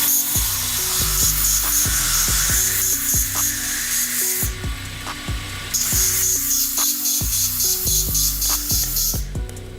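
A knife edge is polished at very slow speed on a powered wheel, giving a continuous whirring rub with repeated rhythmic strokes and a brief shift in pitch midway, loud and close with no talking.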